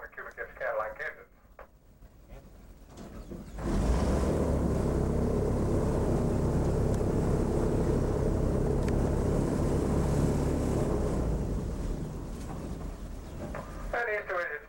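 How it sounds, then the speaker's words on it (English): Lightweight aluminum boat powered by two 500 cubic inch Cadillac engines making around 750 horsepower, starting up after a few seconds into a loud, steady engine roar that holds then eases slightly, with voices faintly before and after. "powered by two 500 cubic inch Cadillac engines"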